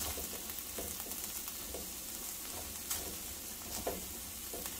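Cabbage sizzles in a frying pan of stewed meat, a constant hissing fry with a couple of brief stirring clatters, close and quiet, without speech.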